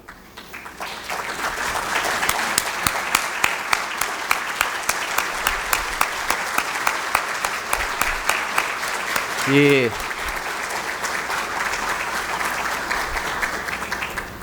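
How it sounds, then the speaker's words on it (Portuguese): Audience at the official opening of the 47th Citrus Week and Expocitros applauding the Citrus Center team, a steady round of clapping that builds, holds and runs on, with a brief voice rising over it midway. "um aplauso para eles e veio naturalmente"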